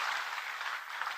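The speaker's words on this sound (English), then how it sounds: "Please, can we give her a round of applause, please?" Audience applause at an investment ceremony, a short burst of steady, dense clapping from a crowd with no speech over it.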